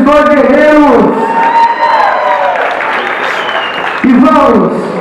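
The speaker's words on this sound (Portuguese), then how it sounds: "Uma salva de palmas para esses dois guerreiros." Applause and cheering from a fight crowd for two fighters at a War of Champions grappling event, a loud burst of clapping with whoops, framed by an announcer's voice at the start and end.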